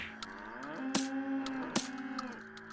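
A cow in the video game Unturned gives one drawn-out, tonal moo lasting over a second, loud and close, with a few sharp clicks around it and no speech.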